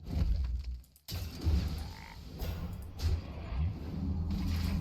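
Frogs croak repeatedly in the digital card game Hearthstone, a chorus of deep, rhythmic croaks in bursts with a brief silent gap, loud and close over a low rumbling game backdrop.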